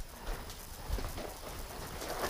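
A horse walks in a round pen during groundwork training, its hoofbeats giving soft, dull clip-clops on the footing amid steady background noise.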